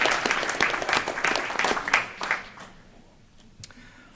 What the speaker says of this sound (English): You're going to cheer for me.